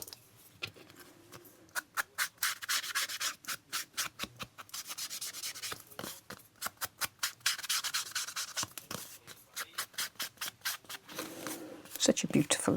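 Ink blending tool rubbed across paper to apply antique linen Distress ink on a journal spread, giving repeated bursts of close, scratchy rubbing strokes in quick rhythmic runs.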